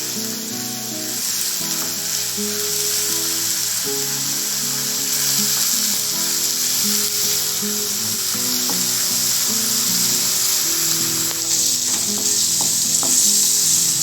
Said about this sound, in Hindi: इनको हम गुलाबी होने तक भूनेंगे।